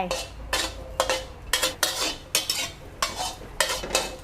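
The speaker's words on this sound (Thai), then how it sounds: "คั่วไปค่ะไฟอ่อน ๆ ค่ะคั่วพริกกับกระเทียมมีความหอมๆ" Chili and garlic are stir-fried in a pot over low heat, a utensil scraping the pot in about eight regular, close strokes, each a sharp clattering swipe, with faint sizzling beneath and no talking.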